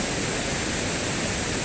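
Tinuy-an Falls in the Philippines produces a powerful, steady broadband roar of crashing water, loud and close, with no breaks.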